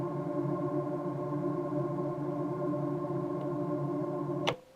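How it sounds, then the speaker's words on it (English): A frozen reverb tail of three guitar notes forms a soft, steady drone of blended notes that hangs without fading, then cuts off with a small click. "So that is just a frozen kind of reverb tail of 3 notes on a guitar."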